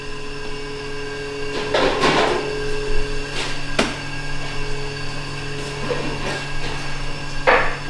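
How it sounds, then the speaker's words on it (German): Sausage meat is scraped out of a meat-processing machine in a traditional Hamburg butcher's canteen, giving rough intermittent scraping bursts over a steady mechanical hum. "Jedes kostbare Gramm von der Wurst wird rausgekratzt aus der Maschine"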